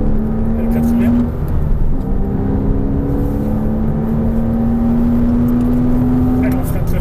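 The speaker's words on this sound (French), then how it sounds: "Allez, on accélère. Allez, gaz à fond là. Pied au plancher." A car run at full throttle on a race track, engine note climbing steadily and loud and close inside the cabin, with a long rising harmonic whine that briefly drops at a gear change before rising again, an instructor talking over it.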